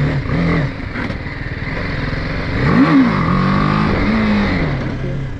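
A BMW G 310 GS motorcycle accelerates on a ride, its single-cylinder engine loud and close, rising and falling in pitch through gear changes, with a steady rumbling drone throughout.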